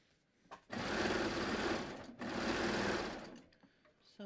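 A sewing machine stitches fabric around a seam in two continuous bursts of rapid buzzing with a short stop between them, close but quiet, with faint handling noises before and after.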